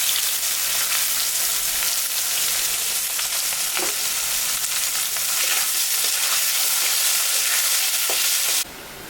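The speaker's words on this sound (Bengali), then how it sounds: "আলুটা ভাজা ভাজা হয়ে গেছে, এখন আমি পেঁয়াজটা দিয়ে দেব।" Onion and potatoes fry in a pan with a loud, continuous close-up sizzle and occasional soft stirring scrapes. The sizzle continues with no speech until it changes abruptly near the end.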